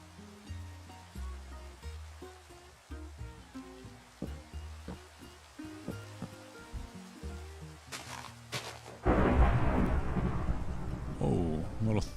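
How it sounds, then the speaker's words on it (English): In a Minecraft-style video game, a thunderstorm comes on with a deep rumbling roar that swells suddenly and loud partway through. Before it, faint music and a muffled voice sit beneath it. "Oh, a little thunderstorm."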